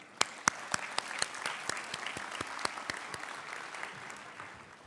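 A graduation audience at a business school ceremony claps for faculty and staff, with scattered sharp individual claps over a soft, distant wash of applause.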